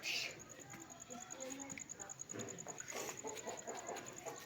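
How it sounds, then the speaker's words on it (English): An Australian chicken clucks outdoors in short, moderately loud bursts over steady background noise, with faint voices nearby. "Beautiful chicken."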